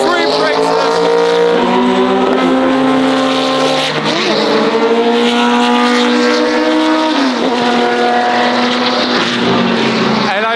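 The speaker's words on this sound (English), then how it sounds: "this Group C is ear deafening." Group C race cars scream past at the Espiritu de Montjuic event, loud sustained engine roar with rising and falling pitch as cars pass, constant and close.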